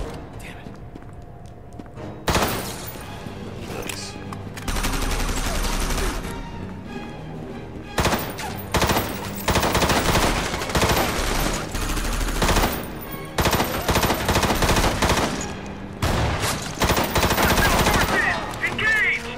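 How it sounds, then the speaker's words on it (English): Bursts of rapid machine gun fire in the mech video game Front Mission Evolved rattle loudly in repeated volleys, with heavy impacts and game sounds, while a player talks over the action. "At least this game gave me my machine gun back."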